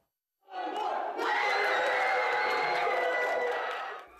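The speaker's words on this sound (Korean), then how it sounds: "스타벅스 직원들이 환호성을 지르며 부둥켜 안고 승리의 기쁨을 나눕니다." Starbucks workers in a store in Buffalo, New York, erupt in loud sustained cheering and screaming after their union vote passes, a dense close chorus of voices that swells and holds for several seconds.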